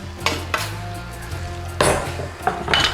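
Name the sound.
onion being added to a pan for dhal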